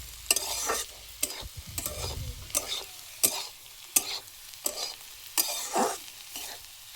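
Bhaji fries in a pan as a spatula stirs in repeated rhythmic strokes, each one a sharp scraping clatter. A soft sizzle hisses between the strokes.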